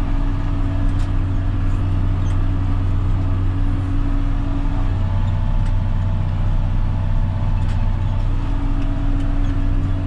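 A John Deere tractor pulling a fully loaded lime spreader strains uphill on a steep field slope, its engine a loud, steady, close drone that holds for the whole stretch with no voices.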